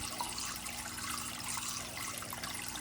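Water from a Sicce Whale 500 canister filter's outflow head trickles and splashes into a low aquarium water level, a steady close hiss of running water with no pauses and no voices.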